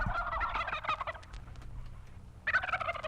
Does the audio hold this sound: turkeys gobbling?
yes